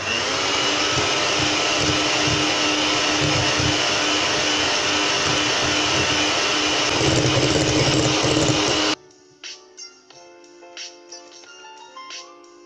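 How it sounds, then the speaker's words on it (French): An electric hand mixer beats whole eggs with granulated sugar in a bowl, a loud, steady motor whine close by for about nine seconds. It then cuts off, leaving a few light clinks and taps. "Avec le batteur électrique et dans un autre récipient, je vais travailler pendant 2 minutes les œufs entiers avec le sucre cristallisé."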